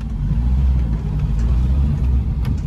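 A Bedford HA van pulls away in first gear, its small engine giving a steady, loud, low rumble heard close up from inside the cab with slight throttle rise.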